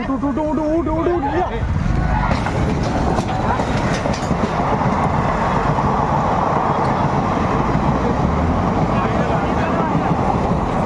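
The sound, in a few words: train arriving and stopping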